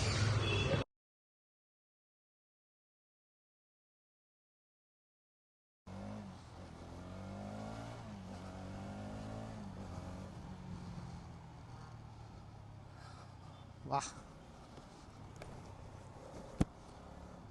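A Hero Xtreme 250R motorcycle engine revving, a steady mid-level drone whose pitch climbs and dips as the throttle is worked, after a brief opening burst and a stretch of silence, with a couple of sharp clicks near the end.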